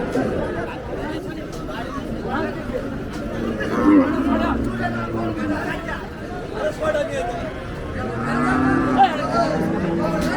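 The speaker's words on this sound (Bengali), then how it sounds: "হজরতপুর গরুর হাট থেকে প্রচুর পরিমাণে গরু বের হচ্ছে দেখতে পাচ্ছেন" Cattle lowing amid a busy crowd at a livestock market, several moos rising over constant chatter and bustle of many people nearby.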